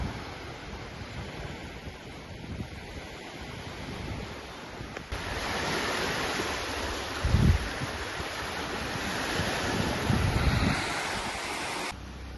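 Waves washing onto a beach on the east side of Siquijor island, a continuous broad surf roar mixed with wind buffeting the microphone, growing louder partway through.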